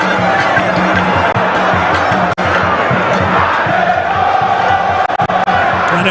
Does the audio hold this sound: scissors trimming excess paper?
no